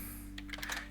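Brief light typing on a computer keyboard, a few soft quick key clicks clustered together over a steady low electrical hum, quiet and close.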